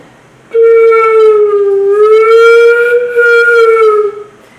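A single sustained flute tone played with the embouchure rolled in, clear and breathy, holding one pitch with a slight waver for about four seconds, alone.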